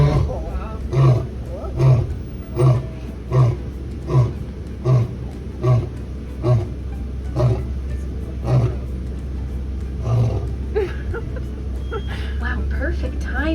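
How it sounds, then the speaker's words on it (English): A lion at Disney's Animal Kingdom gives a long series of deep, rhythmic roars, about a dozen evenly spaced grunting pulses over a steady vehicle engine rumble, loud and fairly close, with people talking faintly. "But back to the lion, how cool was that? Not only was he awake, but he also roared for us."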